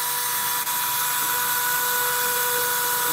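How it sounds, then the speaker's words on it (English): A power drill grinds steadily at a mask's teeth in a workshop, a continuous close whine with one brief catch early on and no talk. "I'm drilling out the mask's teeth"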